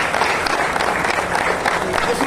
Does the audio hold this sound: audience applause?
yes